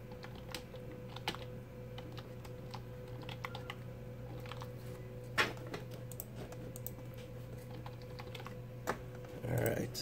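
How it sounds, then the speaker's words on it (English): Light, uneven clicking of keys on a computer keyboard over a steady low electrical hum, with a slightly louder clack near the end. "That's my keyboard."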